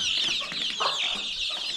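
Village country chickens at a Konkan poultry farm cluck and chatter continuously, several birds close together in a dense, busy flock sound with no talk.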